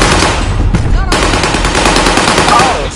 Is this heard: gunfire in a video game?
yes